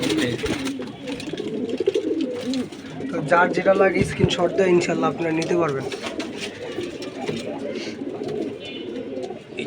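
Pigeons of an old-line breed coo close by at a pigeon farm, their soft burbling calls heard behind people talking for most of the stretch.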